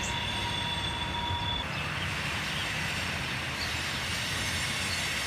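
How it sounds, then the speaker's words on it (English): A freight train passes through the second floor of a building in Indianapolis, producing a steady loud rumble with a high wheel squeal that fades partway through. "the train actually goes through the second floor of the building here"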